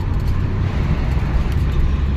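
A Citroen Berlingo 1.9 car driving along the road, with a steady, loud low-frequency rumble of engine and road noise that continues without a break and with no talking.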